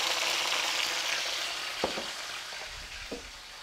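Tomato sauce sizzles steadily in slightly cooled hot oil in a pan for pasta al pomodoro, a dense close hiss with a few soft scraping knocks toward the end.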